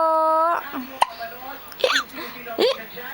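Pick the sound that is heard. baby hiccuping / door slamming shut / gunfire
baby hiccuping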